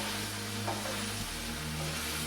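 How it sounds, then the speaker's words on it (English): Onions and garlic for jambalaya cook in a pot, giving a steady, close sizzle with a low continuous hum beneath and a soft stir partway through. "you don't really have to cook the onions to death. We're going to kind of stew in here."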